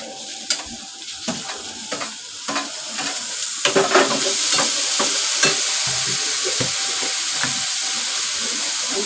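Tomatoes stirred into browned onions in a hot pan for a Malvani dry prawn dish, with a steady sizzle broken by repeated clinks and scrapes of the spoon against the pan, close and without talk.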